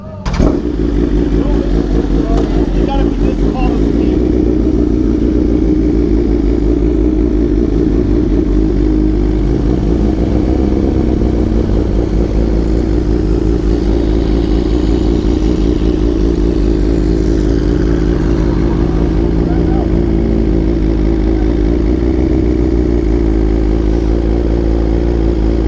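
Loud, steady engine roar from a Ferrari supercar alongside superbikes on a night ride, a continuous heavy drone that fills the whole stretch with slight revving swells.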